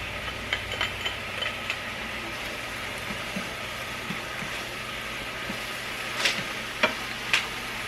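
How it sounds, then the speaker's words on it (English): Minced fresh garlic sizzles in a pot with button mushrooms and diced onion, a steady low crackle with a few sharp stirring clicks near the end. "Now we're going to add 3 cloves of fresh garlic minced."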